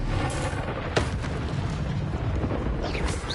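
Bombarda spell explosion in Hogwarts Legacy: a sharp blast near the start, then a rumbling burst within loud, continuous game noise, with a later crackle near the end and no talk.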